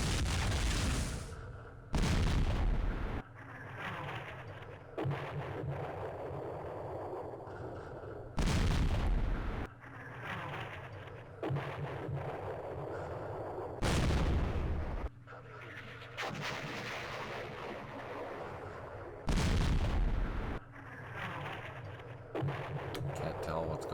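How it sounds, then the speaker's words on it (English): Heavy artillery fire in the wargame Campaign Series Vietnam, set in the Mekong: booming blasts landing every few seconds, loud and close, with someone talking between them. "Hopefully our artillery does something good here."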